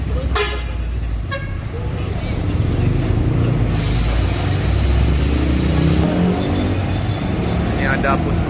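A Rapi Rajaya bus passes by a busy roadside, its engine rumbling loudly with a burst of hissing air and horn toots amid steady traffic noise and a voice talking nearby.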